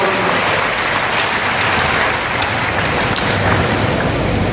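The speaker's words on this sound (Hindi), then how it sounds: "जल शक्ति मंत्री CR पाटिल जी का जोरदार ताली बजा करके आपका स्वागत है" Loud, dense applause from an audience welcoming the Union Jal Shakti minister at a public event in Jhunjhunu, Rajasthan, a steady wash of many hands clapping throughout with no break.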